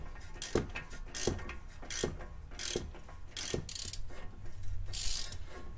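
A ratchet tightens a nut or bolt during a SoloWerks coilover install on an MK5 R32, giving a rhythmic series of about seven clicking, ratcheting strokes, close and fairly quiet, with no speech.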